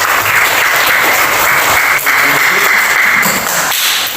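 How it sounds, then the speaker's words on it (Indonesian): Loud, continuous applause from a classroom audience at an Indonesian university teacher-training session, a dense wash of hand claps holding steady throughout with no voices over it. "kasih tepuk tangan untuk"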